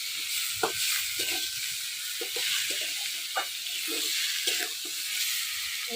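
Boal fish pieces sizzle and fry with spices in a hot kadai, a steady close hiss broken by soft clicks and scrapes of stirring.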